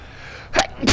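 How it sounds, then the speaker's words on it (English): A man sneezes twice in quick succession, a sharp gasping intake followed by a loud burst, close to the microphone over a faint background hum. "Oh, I just sneezed there."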